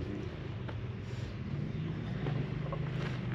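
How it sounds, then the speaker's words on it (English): Off-road vehicle engine idling and rumbling on the rocky Rubicon Trail, a low steady drone mixed with wind noise on the microphone, moderately faint and without talk. "You can probably hear some of the engine noises."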